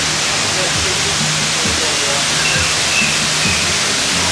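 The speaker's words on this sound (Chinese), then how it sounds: "我整個人工瀑布，" An artificial waterfall in a garden inside Kuala Lumpur International Airport makes a loud, steady broadband rush, with someone talking over it.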